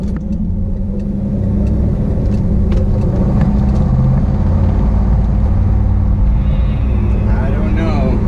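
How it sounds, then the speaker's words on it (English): A 1994 LT1 V8 with a slight misfire idles loudly and close, with a deep, steady rumble broken by faint irregular stumbles, and a voice speaks over it. "Not a sputtering, but almost like just a slight miss."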